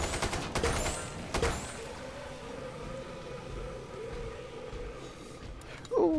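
Gunfire in the zombie shooter Killing Floor 2, a few sharp shots early on, then a sustained mechanical rumble and a squeal near the end, fairly quiet overall.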